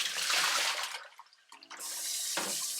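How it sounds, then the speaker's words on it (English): Water with a little bleach and dish soap sloshing in a small bowl during greenhouse cleaning, a close, broadband splashing and swishing that pauses briefly and then resumes. "This water that I have in this little bowl has a little bit of Clorox and Dawn."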